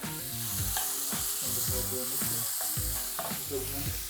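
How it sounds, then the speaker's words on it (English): Close, steady sizzling of jackfruit frying in a pan for a vegan ragu, with occasional scraping and clanks of stirring mixed in. "In that goes, should be a nice sizzle."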